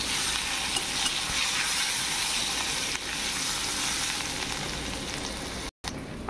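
Onions frying in smoking hot oil for an egg and potato curry, a continuous close sizzle with faint stirring, broken by a brief dropout near the end.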